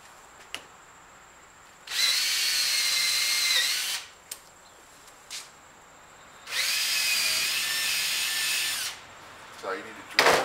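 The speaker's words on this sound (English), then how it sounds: "this is drilling the welds" Power drill boring out the welds on an insulated glass window frame, two sustained loud whining bursts of about two seconds each, separated by brief knocks and handling clicks.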